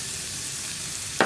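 Ginger and onion sizzle in hot oil with fennel seeds in a pan for a tomato theeyal. The frying hiss is steady and close, and a brief sharper burst comes at the very end.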